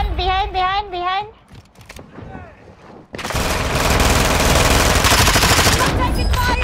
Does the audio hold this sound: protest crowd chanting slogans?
no